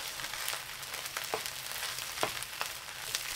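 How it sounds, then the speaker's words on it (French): Egg whites and rice stir-fry over high heat in a pan, giving a continuous close sizzle punctuated by a few sharp scraping stirs, with no voices. "J'ajoute les blancs d'œufs. Je remue pendant une minute, toujours à feu fort."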